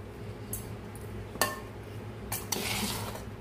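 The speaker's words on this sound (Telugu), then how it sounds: "ఈ చింతపండు మనం దీంట్లో వేసేసుకొని కొద్ది కొద్దిగా ఈ విధంగా కలుపుకుంటూ ఉండాలి" Cooled boiled tamarind mixed into cooked rice for pulihora, with soft stirring and a few sharp clinks of a metal spoon against the vessel, close and intermittent.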